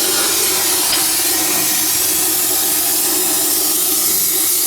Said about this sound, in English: you clean your diff with brake clean before you weld it with a real welder anyway